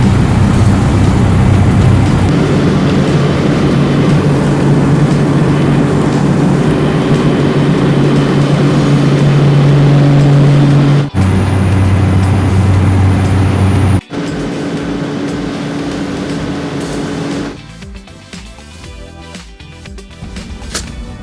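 A seaplane climbing over Dubai after takeoff gives a loud, steady engine drone that shifts tone a couple of times, then drops to a quieter, rougher hum near the end.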